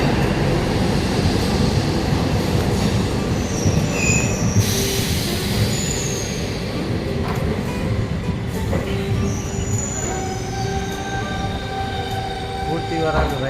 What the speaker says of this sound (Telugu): డెమో ట్రైన్ సికింద్రాబాద్ నుండి సిద్దిపేటకి ఇప్పుడే చేరుకుంది